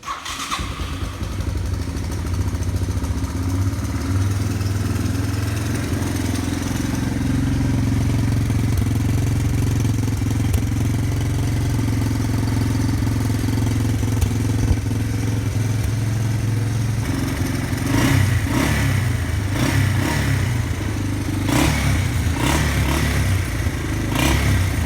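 Yamaha Moto 4 ATV engine fitted with a Kimpex muffler, running close by with a steady, muffled, chugging idle throughout, rising in a few revving blips in the last several seconds.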